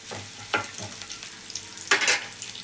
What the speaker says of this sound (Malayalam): അപ്പോൾ നമ്മൾ നെയ്യിൽ തൂമ്പിക്കല്ലേ.